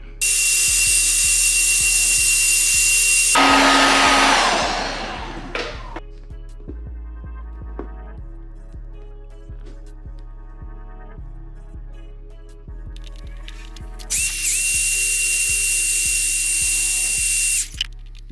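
A heat gun warms the adhesive behind a car emblem, blowing with a loud high whine at the start and again near the end, separated by quieter mechanical hum and clicks.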